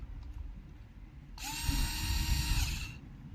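A small INGCO 4-volt cordless screwdriver drill spins up after a quiet moment, giving a steady whirring motor whine for about a second and a half before it stops.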